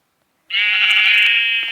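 A single sheep bleat from the Minecraft video game, a clear, loud, slightly wavering cry that starts abruptly after half a second of silence and holds steady for just over a second.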